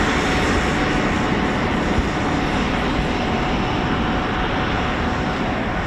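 Eurofighter Typhoon FGR4 military jet with a distinctive H-tail roars at RAF Coningsby, a loud, steady broadband engine rush that fills the whole stretch without pause.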